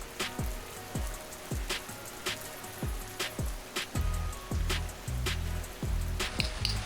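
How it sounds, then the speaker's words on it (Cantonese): Sudden heavy rain pours down on a campsite near Mount Fuji, a dense steady drumming and hiss broken by repeated close, heavy drops or thumps, with no voices. "哇！ 啲雨突然咁大嘅"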